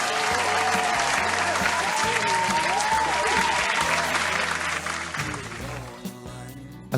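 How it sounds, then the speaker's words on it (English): An audience claps in sustained, loud applause with a tonal musical backing underneath, holding steady before thinning out and fading toward the end. "We need more claps. Keep clapping for that, boys."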